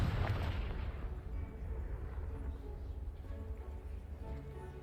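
A Confringo blasting spell explosion in Hogwarts Legacy, a sharp blast at the start that rolls into a long, fading rumble, fairly quiet overall.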